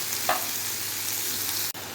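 Tomatoes and spice powder sautéing in a pan for chicken kurma give a steady, soft frying sizzle throughout, with a brief stirring scrape near the start and a momentary dropout near the end.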